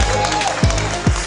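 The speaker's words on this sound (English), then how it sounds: "Can I have a round of applause for her?" An audience at a youth exchange gathering applauds in a brief burst of crowd clapping, fairly loud and close, lasting just over a second.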